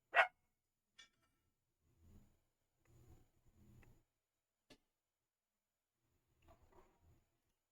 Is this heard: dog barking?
yes